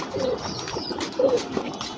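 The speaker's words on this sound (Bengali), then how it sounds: "এই একটা কবুতর আমার" A pigeon being bathed to rid it of lice gives two soft, low coos about a second apart, close by over a faint background hiss, with no one talking.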